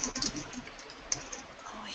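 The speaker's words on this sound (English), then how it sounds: "here's someone typing" Faint, scattered computer keyboard typing with a few sharper clicks, heard at a distance through someone's microphone during an online session, under a low hum of room noise.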